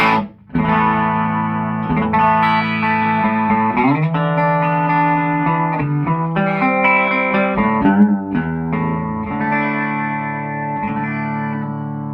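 An electric guitar plays sustained chords through a gritty, naturally overdriven Fender Princeton amplifier, the distorted tone ringing out loud and continuous.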